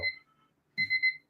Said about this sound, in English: Now, you might hear that beeping in the background.